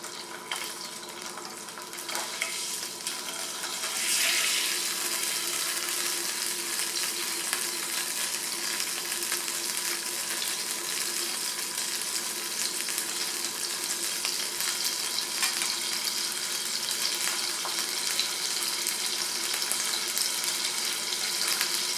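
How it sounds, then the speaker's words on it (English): Steady, close sizzling and crackling of canned food reheating in a hot pan, a continuous hiss that swells slightly early on and holds without speech. "You hear it sizzling a bit, getting hot."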